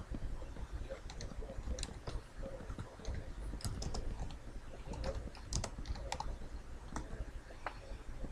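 Slow, uneven typing on a computer keyboard, with scattered individual key clicks and occasional pauses, quiet and close.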